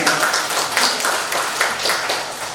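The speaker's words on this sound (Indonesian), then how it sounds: "Tepuk tangan untuk Indonesia." A crowd at a women's religious study gathering in Indonesia claps steadily and densely throughout, a continuous wash of hand claps with no pauses.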